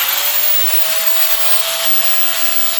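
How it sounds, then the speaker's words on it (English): An angle grinder cuts through metal with a loud, steady high-pitched whine and harsh broadband grinding noise that holds constant for the whole stretch, with no talking. "aim the grinder across here and try to cut at the same angle as this curve"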